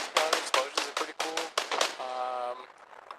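Arma Reforger combat: a rapid string of sharp bangs and cracks, roughly a dozen bursts in quick succession, followed by a lingering tonal hum as the barrage stops.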